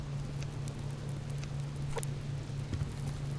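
Steady rain in the survival video game Subsistence, a soft continuous patter under a low hum, with a few faint crackles and ticks scattered through.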